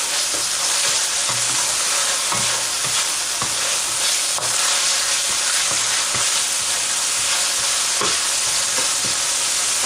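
Chopped onions sauté in a hot pan, a steady close sizzle with intermittent scraping and clacking as they are stirred; no voices.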